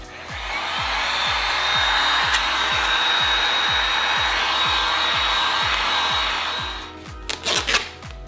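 A heat gun blows a steady, loud airy roar while warming vinyl wrap on a BMW mirror cap, with a rapid rhythmic ticking pulsing underneath, then cuts off into a few brief handling rustles.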